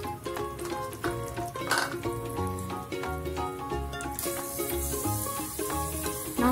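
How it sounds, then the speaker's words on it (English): Onions frying in a pan for egg biryani, a loud, close, continuous sizzle with crackling pops and occasional scrapes of stirring, with no talk. "Again fry the onions till golden brown."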